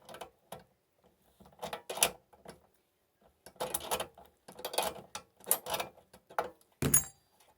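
A 50mm wrench loosening the nut on a keylock cylinder: a series of short metallic clicks and ratcheting scrapes in irregular bursts, close and fairly quiet, with pauses between.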